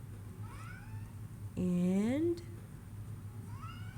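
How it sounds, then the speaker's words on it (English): A house cat gives a loud, close meow with a rising pitch, with softer mews before and after it over quiet room noise while someone talks nearby. "My cat wants to play."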